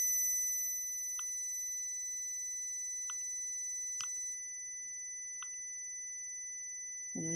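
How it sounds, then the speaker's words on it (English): A signal generator holds a steady, faint electronic square-wave tone with a buzzy, hollow timbre. A few soft clicks cut through it, and a low thump comes at the end. "And then that's more back to a square wave."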